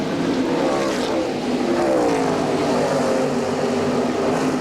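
NASCAR Busch Grand National race cars at the 1997 Dura Lube 200 roar past on track, a loud, continuous engine drone with rising and falling pitch as cars pass, under a commentator's voice.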